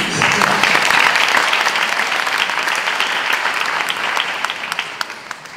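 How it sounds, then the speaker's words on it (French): Sustained applause from a conference audience, a dense, steady wash of many hands clapping loudly throughout, tapering slightly toward the end. "je demande d'applaudir aussi."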